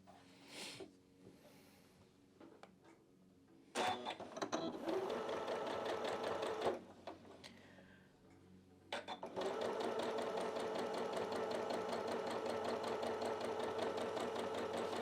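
A sewing machine stitches quilt pieces together in fast rapid bursts, the longest running steadily for several seconds, with short pauses and faint handling noises in between, close and clear.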